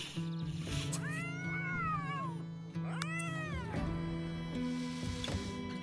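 Cats in The Sims 3 give two long, drawn-out meows one after another, loud and close over a steady game music hum, followed by a few quieter chirps.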